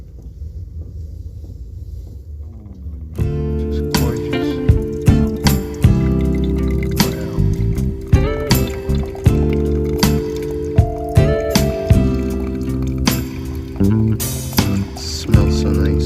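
Coffee pours into a cup inside a minivan camper with dripping, splashing liquid sounds. Steady tonal background music plays underneath, and someone makes a brief spoken remark.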